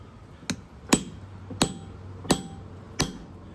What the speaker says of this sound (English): I got a few strikes to kind of get it into place